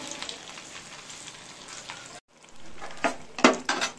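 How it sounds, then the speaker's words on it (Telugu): Fish sizzling as it fries a second time in hot oil, Telangana style: a steady, close crackle that breaks off briefly, then returns with louder bursts and pops, with no talking. "Second fry."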